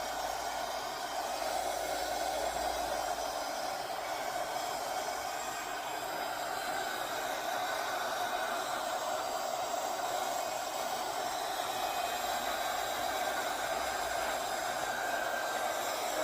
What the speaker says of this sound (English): So this heat gun I got off of Amazon.